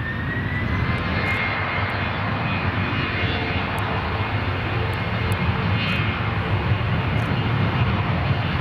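Royal Air Maroc airliner departing Brussels Airport, its jet engines a loud, steady roar that holds at the same level throughout with no voices over it.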